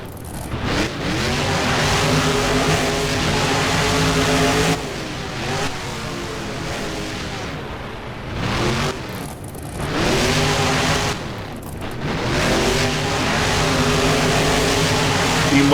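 Monster truck engines rev and roar in a BeamNG racing game inside a stadium, loud and close, rising and falling in repeated surges with brief dips between pushes, no talking over them.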